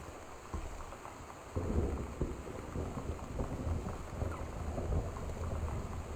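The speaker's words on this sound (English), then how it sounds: "I do like the constant rain in the game." Steady heavy rain with a low rumble of thunder in the video game Gone Home, a constant wash that swells slightly partway through, with no talking over it.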